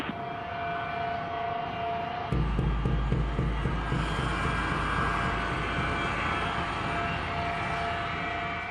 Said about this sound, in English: At 3:24 p.m., the flight, call sign Cactus 1549, is cleared for takeoff.